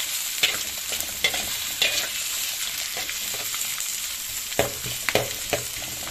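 Onion, corn and water spinach stir-fried in a pan until wilted, a steady crackling sizzle broken by a few spatula knocks and scrapes, close and alone.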